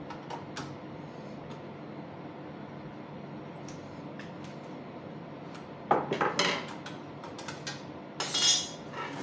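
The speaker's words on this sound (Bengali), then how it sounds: "এই স্ক্রুটা খোলা লাগবে" A screw being worked loose on an HP LaserJet 1600 printer, faint scraping and ticks over a low background hum, then louder metallic clinks and rattles of a screwdriver and parts near the end, close and without speech.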